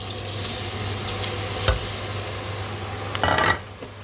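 Murukku dough dropped into fresh oil, foaming up on first frying: a steady soft sizzle with a low hum beneath and a brief louder bubbling burst near the end, no voices.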